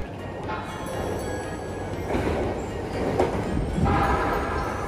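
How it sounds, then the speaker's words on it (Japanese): A JR Yamanote Line E235 series train pulls into busy Shibuya station, a steady rumbling roll with rising mechanical hum and faint high squeal, set against crowded platform ambience. "E235 系車両が到着し、"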